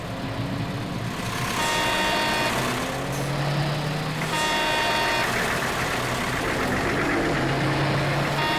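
A car engine hums steadily while the vehicle is driven, a continuous low rumble with faint tonal whines layered over it, no speech.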